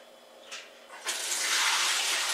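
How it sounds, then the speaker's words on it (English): Milk stout wort poured into a fermenter, building from a faint trickle to a steady, full rush of liquid that runs on continuously. "Let's get it poured into my fermenter."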